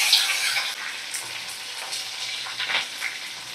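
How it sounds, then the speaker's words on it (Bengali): Curry leaves, tomatoes and onions fry in hot oil, a steady crackling sizzle with a bright burst at the start and a few louder pops later, heard close and alone. "ওই গরম তেলে আমি এবারে কারি পাতা দিয়ে দিলাম।"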